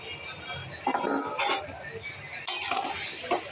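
A cooking pot's lid is lifted with metallic clinks and water is poured in on a home kitchen stove, brief clatter bursts with a soft splash, a voice faintly present.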